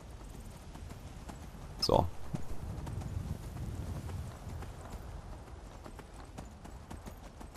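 Horse hooves clip-clop steadily while riding across terrain in the video game Skyrim, a continuous rhythmic trot under the game ambience, with a brief spoken word near the start.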